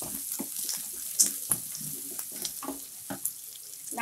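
Tamarind fries in hot oil in a pan for tomato chutney, giving a soft, steady sizzle broken by scattered crackles, pops and occasional stirring scrapes.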